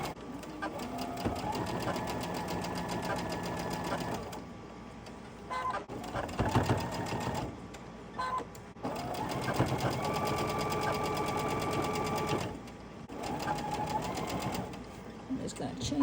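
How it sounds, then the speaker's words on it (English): A sewing machine chain-stitches quilt fabric blocks, running in steady whirring bursts with brief pauses between, close and fairly loud. "I'm just going to chain stitches and take the next 2."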